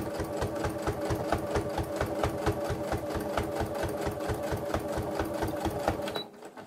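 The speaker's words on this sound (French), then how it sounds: "je me mets au bord de mon tissu et je continue ma couture." A sewing machine stitches fabric for a handmade cigarette case, running in a fast, steady mechanical rhythm, loud and close, for several seconds before stopping abruptly near the end.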